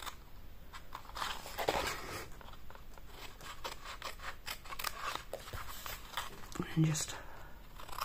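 Scissors snip away a rectangle of card during papercraft trimming, a run of short crisp cuts and rustles close by, with a voice speaking softly over them.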